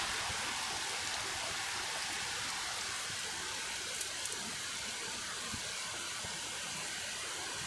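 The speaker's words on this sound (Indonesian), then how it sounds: "Kita lihat hujan tuh." Steady rain falls in a village, a continuous broadband hiss with scattered drop impacts, even and moderately loud throughout with no voices.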